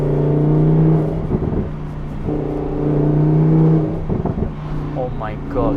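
Audi R8 V10 Plus engine pulling in fourth gear around 3,000 RPM on a hillclimb drive, a steady loud hum rising in two long swells, heard from inside the car with a voice talking over the gaps.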